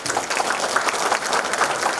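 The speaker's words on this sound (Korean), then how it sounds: "환영의 큰 박수를 부탁드리겠습니다." An audience at a Chungcheongbuk-do provincial briefing event in Danyang County applauds in welcome, steady dense clapping filling the whole stretch at moderate loudness with no talk over it.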